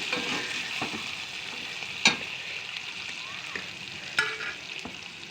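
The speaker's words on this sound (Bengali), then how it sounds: "পেঁয়াজটাকে ভেজে নিলাম হালকা করে" Onion frying and being stirred in a pan, a continuous close sizzle broken by a few sharp spoon scrapes and clinks against the pan.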